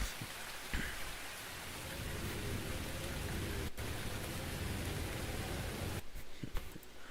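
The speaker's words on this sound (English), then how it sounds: "And then this one is Rain Ambience." Rain ambience from a Sonic fan game plays as a steady, dense hiss of falling rain on surfaces, continuous and fairly loud, with a couple of brief dropouts and no voices.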